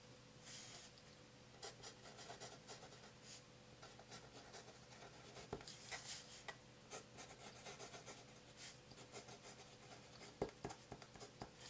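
A pen moves fast and messily across paper, a close, soft scratching and rubbing with quick strokes and small taps, quiet and steady, with no talking.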